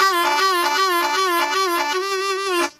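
A harmonica plays a quick lick in the low register with a steady reedy tone, wavering pitches and a pulsing rhythm, ending abruptly after under three seconds.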